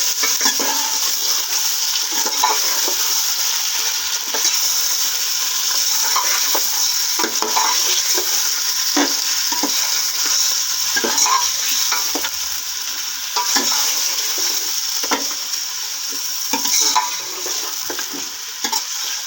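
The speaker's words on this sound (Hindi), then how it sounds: "प्याज ब्राउन हो गई है, इसमें गोश्त शामिल कर देंगे। इसको अच्छी तरह कर लेंगे।" Meat frying with browned onions for shaljam gosht, a constant loud sizzle broken by repeated scraping and clinking as a spoon stirs the pot, with no voices.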